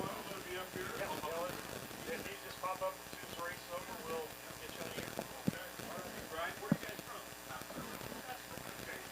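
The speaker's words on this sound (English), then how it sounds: "Right now, horses are approaching the starting gate for race 9." Harness racing horses trotting toward the starting gate at a county fair track, hooves clip-clopping faintly beneath steady crowd chatter and a public-address announcer throughout.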